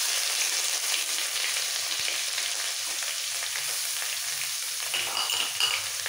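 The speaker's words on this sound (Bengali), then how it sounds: "ফোড়ন ভাজা হয়ে গেলে দিয়ে দেবো আদা, গ্রেট করে রাখা আদা।" Grated ginger frying in hot tempering spices for khichuri, a steady soft sizzle with faint crackles and occasional stirring scrapes, close and continuous with no talking.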